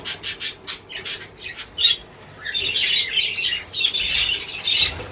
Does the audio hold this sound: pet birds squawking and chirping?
yes